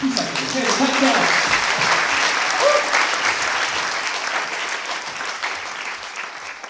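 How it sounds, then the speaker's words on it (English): An audience claps for the dance group KUSAK after a performance, a full round of applause that starts strong, with a few voices mixed in early, then gradually thins and fades. "Another round of applause, please, for KUSAK."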